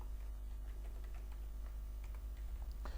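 A username being typed on a computer keyboard during Windows Server 2022 setup: soft, irregular key clicks, close and fairly faint, over a steady low hum.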